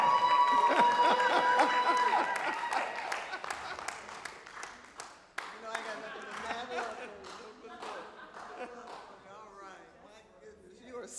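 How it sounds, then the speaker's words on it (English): Crowd applause and cheering at first, fading as voices and scattered footsteps or squeaks take over; people talk throughout. "we want to bring her out with a thunderous round of applause"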